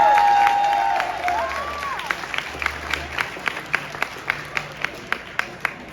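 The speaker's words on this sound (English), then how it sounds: "Let's give a big, big round of applause for our military vet" Crowd applause greets a military-veteran fighter at a boxing promotion press conference, a dense wash of clapping that thins out into sparse, distinct individual claps trailing off toward the end, with some murmuring voices underneath.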